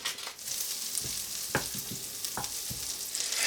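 About two tablespoons of butter or margarine melting in a hot pan that holds leftover mushroom juices, giving a steady, close hiss of sizzling with a few soft pops and taps throughout.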